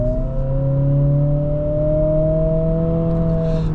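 A 2025 Acura ADX A-Spec with a CVT accelerates, and its engine drones at a steadily rising pitch in a smooth, continuous whir, heard fairly close with no gear-shift breaks.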